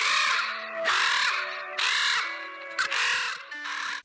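A voice imitating newly hatched crows gives a string of about five rasping caws in uneven rhythm, close and fairly loud, with no other sounds.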